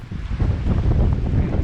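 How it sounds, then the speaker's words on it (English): Gusty wind at Ethan Pond, a mountain pond with whitecaps, roars steadily and loudly across the microphone, a dense low rumble with no talk. "You can see it's windy because there's like white caps."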